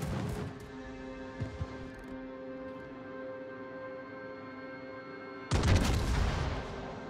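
Battleship front guns firing in the World of Warships video game, with a heavy booming salvo at the start and another loud broadband blast near the end over a steady tonal engine hum.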